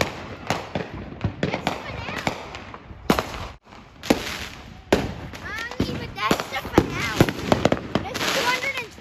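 Fourth of July fireworks crackle and pop in rapid repeated bursts, with sharp bangs and sizzling crackles close by. A brief lull comes midway, then the barrage resumes. Voices are audible faintly beneath.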